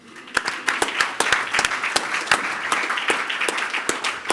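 Audience applause at a malignant mesothelioma symposium, a moderately loud patter of individual claps with sharp separate hits, starting abruptly and continuing steadily for several seconds with no talking over it.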